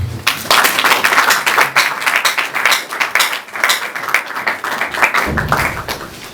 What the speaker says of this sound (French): J'aimerais aussi que vous applaudissiez aussi pour vous-même.